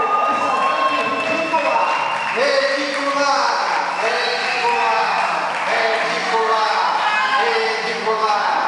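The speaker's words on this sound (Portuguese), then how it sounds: "Vamos aplaudir" Audience at a youth church retreat's costume parade cheering, shouting and applauding as a contestant is welcomed, a loud continuous crowd roar with whoops and calls throughout.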